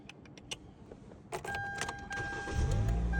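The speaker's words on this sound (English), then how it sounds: "it does start the car." A 2011 Hyundai Elantra is started with a freshly cut spare key: a faint key jingle and clicks, then the starter cranks and the engine catches and settles into a steady idle, with a chime tone sounding from the dashboard.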